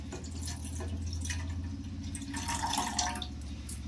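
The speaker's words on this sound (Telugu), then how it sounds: "పావుసేరు నీళ్ళు అయితే పోస్తున్నానండి." Water is poured into a cooking vessel for a carrot sweet: a steady, soft trickle under a constant low hum, faint and close throughout.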